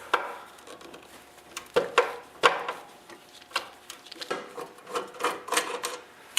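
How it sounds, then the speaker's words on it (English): Small metal bolts being backed out of a Briggs & Stratton snowblower recoil starter with a 5/16 nut driver: close, irregular clicks and taps of the driver on the fasteners and housing, with a few sharper knocks. "with a 5/16 nut driver you can proceed to remove all 4 bolts that hold it on"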